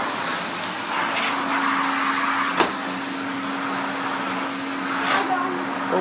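A 1967 Hoover Constellation 867A vacuum cleaner in good condition with a few chips runs with a steady, fairly quiet whir and a faint tonal hum, broken by a couple of brief knocks.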